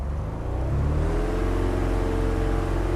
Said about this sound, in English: And throttle full forward.